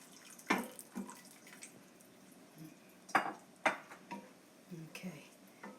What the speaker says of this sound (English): now we're going to be adding some more water